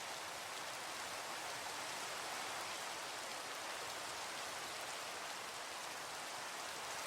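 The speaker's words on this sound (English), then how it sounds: "it's raining on me" Steady rainfall in a video game, a dense, even hiss of drops pattering on surfaces with no pauses, heard alone without talk.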